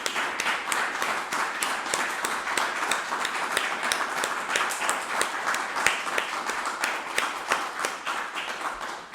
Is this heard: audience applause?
yes